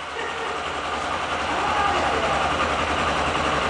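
A vehicle engine runs at a steady idle after being started, a continuous low rumble with broadband mechanical noise that holds fairly loud and even throughout, with no speech over it.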